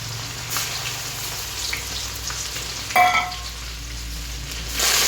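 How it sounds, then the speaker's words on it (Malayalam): Mustard seeds and crushed garlic frying in oil for a lime pickle, a steady crackling sizzle with a brief louder spatter burst near the middle and another rise at the end, close. "ഇതിനിടയിൽ കടുകിട്ട് കൊടുക്കാം നാരങ്ങ ഉപ്പിലിടാൻ അച്ചാറിടാൻ വേണ്ടി കടുക് ഇട്ട് കൊടുത്തിട്ടുണ്ട് പിന്നെ ചതച്ച് വെച്ചിരിക്കുന്ന വെളുത്തുള്ളി ഇട്ട് കൊടുക്കാം"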